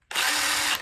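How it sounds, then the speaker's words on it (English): An impact driver spins a hand-ground, wobbling bit in one steady high-pitched whir of just under a second, starting and stopping abruptly, loud and close with no talk. "it does fit in the impact driver, but look at that wobble"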